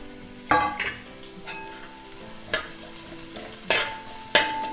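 Cabbage being stirred and fried with egg vermicelli in a pan: several sharp spatula scrapes and knocks against the metal over a soft sizzle, close and distinct, with no voices.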